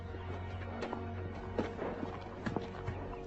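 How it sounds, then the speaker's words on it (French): Horse hooves clip-clop in irregular steps while the animal is led to be loaded, the footfalls fairly close and moderately loud over a steady low background hum. "si tu m'aides à charger le cheval."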